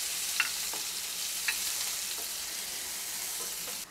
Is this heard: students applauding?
no